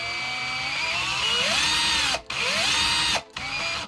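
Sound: cordless screwdriver spinning a stepper motor

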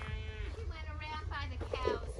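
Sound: cows mooing on a farm

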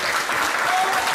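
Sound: applause for two kickboxing fighters

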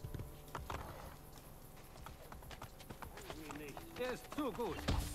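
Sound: horse hooves after calling a horse in Assassin's Creed Brotherhood video game

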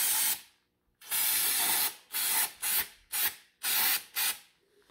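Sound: spraying brake cleaner from aerosol can

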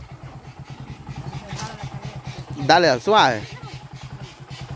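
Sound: motorcycle engine idling

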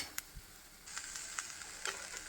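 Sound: bottle gourd frying in a pan

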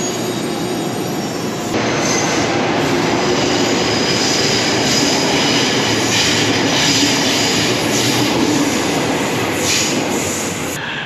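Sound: train passing

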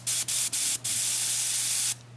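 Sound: airbrush spraying paint

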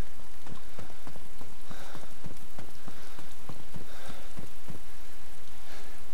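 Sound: rain in the video game DayZ

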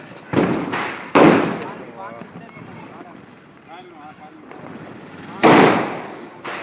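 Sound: young people setting off firecrackers

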